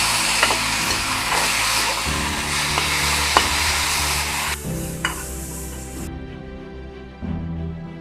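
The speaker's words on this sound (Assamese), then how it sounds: "এইখিনি অলপ ৰঙা কৰি ইয়াৰ লগতে" Sliced onions sizzle loudly and steadily in hot oil in a pan, browning for a jackfruit curry. The frying hiss is close and continuous, and a few soft stirring knocks break through it.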